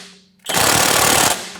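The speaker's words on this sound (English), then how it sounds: "now I'm just going to tighten up the pinch bolt" A car's pinch bolt tightened with a ratchet, a loud, close burst of rapid clicking lasting about a second after a quiet lead-in.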